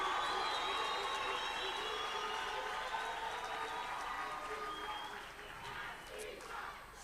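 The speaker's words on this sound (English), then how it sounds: "I really think he deserves the last round of applause." A large crowd at a youth event applauds and cheers together, a steady wash of clapping and shouting that slowly fades a little toward the end.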